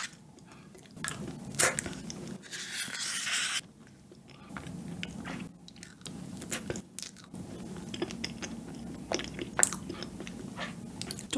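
Frozen banana pudding being bitten and chewed up close: crisp crunches and wet, squishy chewing sounds come in irregular bursts, heard alone without talk.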